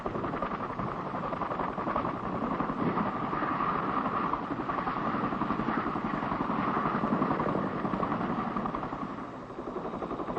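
A loud, steady roar of a Chinook tandem-rotor, twin-turbine helicopter, with rotor thrum and turbine whine, sustained and close throughout.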